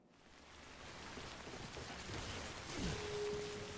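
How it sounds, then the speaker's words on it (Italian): Steady rain hiss in Death Stranding that builds from quiet to a dense, even wash, with a brief low tone appearing near the end. "Piove pure."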